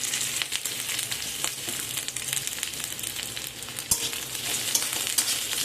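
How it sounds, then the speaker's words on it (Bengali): A whole large onion, chopped, fries in hot oil for a Bengali fish bhurji, with a busy close sizzle, crackles and the scrape of stirring throughout. "এবারে ওই তেলের মধ্যে দিয়ে দেব একটা কেটে রাখা গোটা পেঁয়াজ।"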